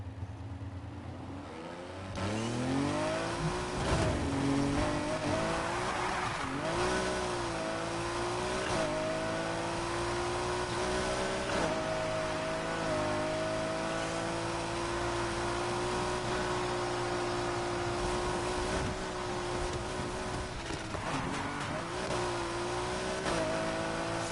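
Race car engines in the video game NFS Heat, including an RSR, rev and accelerate continuously. Rising and falling engine whines come with gear shifts throughout, loud and steady, with no talk.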